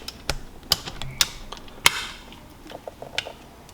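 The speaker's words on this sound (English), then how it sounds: "and you're torquing to 17 foot-pounds." Sharp metallic clicks from a torque wrench tightening bolts on a Seadoo 717 engine during a rebuild, about five distinct close ratchet clicks spaced irregularly over quiet background.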